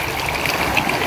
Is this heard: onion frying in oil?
no